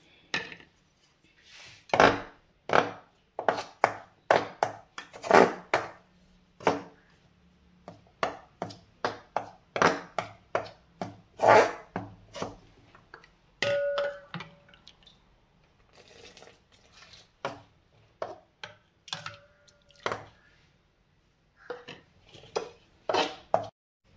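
Ragi flour dough being mixed with hot water poured in little by little, with repeated clattering and knocking of a utensil against a vessel in an uneven rhythm, close and fairly loud, with no talking.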